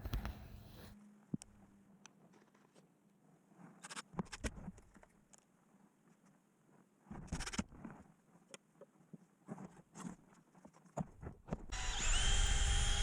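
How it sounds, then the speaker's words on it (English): A power drill countersinks and pre-drills holes in small wooden cleats under a tabletop, with short separate bursts of whirring between quiet gaps and a longer, louder run at the end. "here I'm just countersinking some holes, pre-drilling on these little cleats that I installed earlier"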